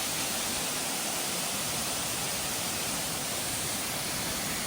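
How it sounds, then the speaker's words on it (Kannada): Sirimane waterfall, water plunging from 60–70 feet, makes a steady, broadband roar that fills the scene evenly without pause, loud and constant. "ಸುಮಾರು 60-70 ಅಡಿ ಮೇಲಿಂದ ನೀರು ಬೀಳುತ್ತೆ."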